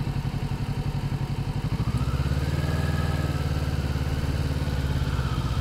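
A 2020 Kawasaki Ninja 650 heard while riding, its engine droning loud and close with a rapid pulsing beat that steadies into a continuous rising hum as the bike accelerates.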